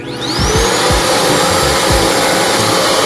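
Revair reverse air dryer wand running at tension level 3, a loud, steady whooshing roar of suction that swells in at the start and holds constant and close, with a few low thumps underneath.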